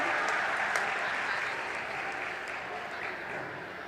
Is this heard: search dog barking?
no